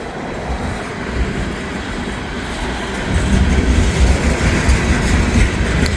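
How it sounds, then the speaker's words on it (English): A heavy freight train loaded with corn rolls past, a loud, steady low rumble of wheels and rail noise that grows fuller and heavier about halfway through, with no voices. "So, big heavy grain train full of corn."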